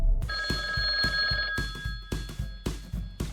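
An old-style telephone bell rings loudly nearby for about a second, while heavy thudding beats pulse steadily throughout.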